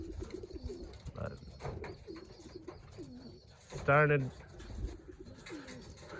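Racing pigeons in a loft give soft, repeated low coos scattered through the clip, with one louder burst of calls partway in and a brief word spoken nearby.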